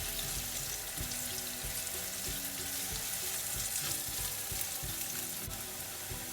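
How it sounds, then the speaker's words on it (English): Steady, continuous sizzling of onions frying in a hot pan, a dense crackling hiss with occasional soft clicks, close up and without voices. "So while the onions are frying"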